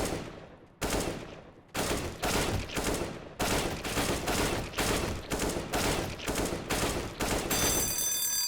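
Gunshots in a video game aim trainer ring out in a steady, evenly spaced run of sharp loud cracks, about a dozen shots each with a short decay, ending with a bright chiming tone.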